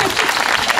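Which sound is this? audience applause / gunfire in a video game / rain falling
audience applause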